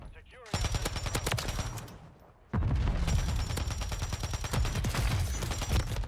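Pulemyot-762 machine gun in Modern Warfare 3 gameplay, loud sustained automatic bursts rattling close, with a short pause after the first burst before heavier continuous fire resumes.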